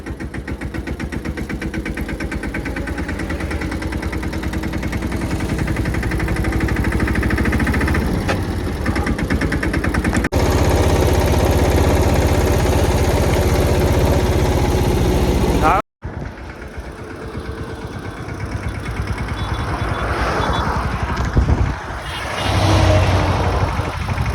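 A tractor engine rumbles steadily and loudly throughout, with a brief cut partway and voices mixed in faintly over the droning motor.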